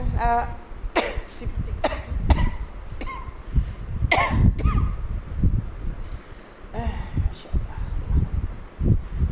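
A series of harsh, irregular coughs and throat-clearing bursts, close to the microphone, with brief breathy pauses between them.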